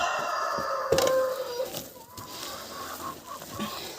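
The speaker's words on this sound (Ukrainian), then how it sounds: "Вредні кури. Нате, йдіть. Австралорпи, нате їжте." Australorp hens clucking in a busy farmyard as feed is scattered, several birds calling near and loud in overlapping bursts, with one sustained call standing out.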